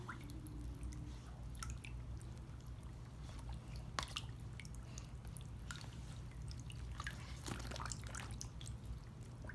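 Water drips and trickles faintly off a cooling towel as it is soaked to make it pliable, giving scattered soft drops and small squishes over a quiet background hum.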